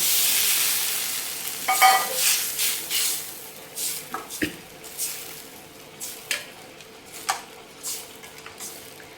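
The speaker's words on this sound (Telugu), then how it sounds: "మనం తీసుకున్న చింతపండు పులుసును అయితే పోసేద్దాం." Tamarind broth poured into a sizzling fried mixture of egg and dried fish, a steady frying hiss with repeated stirring clatters and splashes, close and moderately loud.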